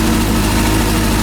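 A rebuilt Honda CB400 motorcycle engine idling, a loud, steady close-up rumble with no break over a brief moment.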